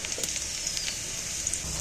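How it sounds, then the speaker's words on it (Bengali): Onions fry in hot oil with a soft, steady sizzle and a few faint crackles, quiet and continuous throughout. "এবার পেঁয়াজগুলো ভাজা হয়ে যাবে।"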